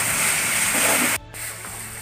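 Onions and green chilies fry in a pan for a vegetable samosa filling, giving a steady, fairly loud hiss that drops out briefly and then carries on a little quieter.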